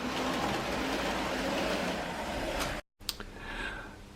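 Model railway trains run on a layout, giving a steady close rumble and hiss of wheels on track. A brief dropout comes near the end before the running sound resumes.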